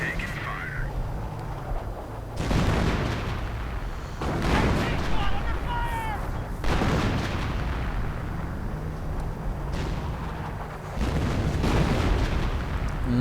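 Game artillery and gunfire in a WWII strategy battle as a StuG lands a hit: repeated heavy booms and explosive bursts roll in every couple of seconds beneath continuous commentary talk.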